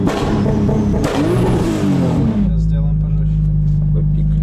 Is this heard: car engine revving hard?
yes